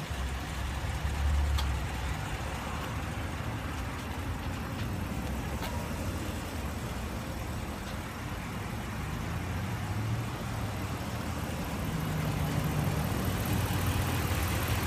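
A 2012 Ram 1500 SXT pickup with a 5.7-litre Hemi V8 idles steadily and close by, a continuous low rumble running unchanged for the whole stretch with no voices.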